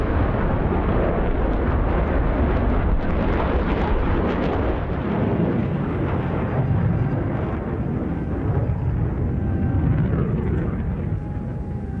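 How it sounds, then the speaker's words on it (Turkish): Jet airplane roaring loudly as it approaches during a military air show display over Adana, a continuous dense rumble filling the whole stretch with no break. "uçağımız son manevrasını gerçekleştirmek üzere tam karşınızdan yaklaşıyor"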